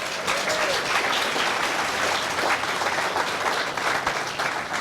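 Applause from an outdoor ceremony crowd at the Surfing Walk of Fame induction in Huntington Beach, a steady dense clapping wash that holds evenly loud throughout with no voices on top.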